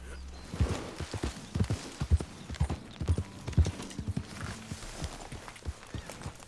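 Horse hooves clip-clop at a steady walking rhythm in Red Dead Redemption 2, fairly close and loud, with faint game ambience underneath.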